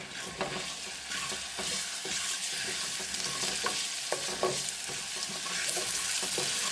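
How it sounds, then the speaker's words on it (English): Ginger, garlic and green chili paste sizzles in hot oil with cumin while a spoon stirs it, producing a dense continuous crackle punctuated by regular scraping knocks against the pan. "Add ginger, garlic, green chili paste. Mix it well."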